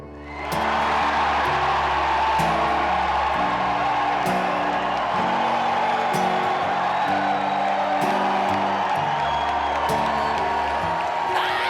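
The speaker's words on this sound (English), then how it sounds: "we're gonna have a moment of exuberant, screaming, frenzied screaming and clapping" Audience screaming, cheering and clapping at a live show, a sustained loud roar of crowd noise with whoops, running unbroken for several seconds beneath a band playing a sustained tonal backing.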